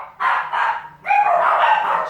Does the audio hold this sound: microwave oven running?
no